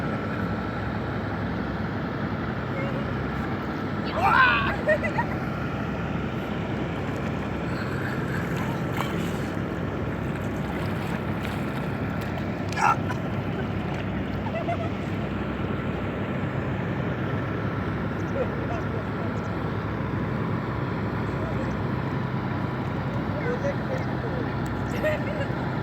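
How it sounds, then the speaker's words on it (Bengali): A boat slowly sets off on the Padma river, a low continuous rumble with wind buffeting the microphone and a few faint knocks, while voices murmur faintly in the background. "নৌকা আস্তে আস্তে বের হচ্ছে।"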